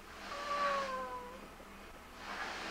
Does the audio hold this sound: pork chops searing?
no